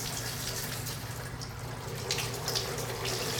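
Water spills steadily out of an industrial reverse osmosis membrane housing as the membrane is pulled out, a continuous close splashing and trickling rush with no voices.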